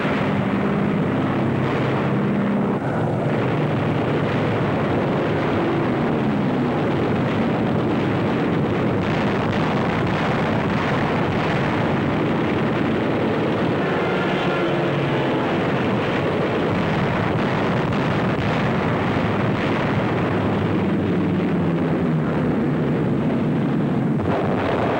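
Aircraft engines roar over a WWII Pacific battle as Japanese planes are shot down, a dense, continuous wash of loud broadband rumble and blasts with no clear break, like distant explosions and engine noise blended throughout.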